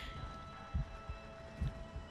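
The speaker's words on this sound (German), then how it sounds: "Ich find's auch geil, dass man diesen Herzschlag hört." A heartbeat from the video game Days Gone: soft, low double thumps pulse steadily and faintly under a hum of ambient game sound.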